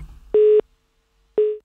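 Telephone busy signal on a radio call-in line after a caller drops, two clean steady tones separated by a pause, loud and alone.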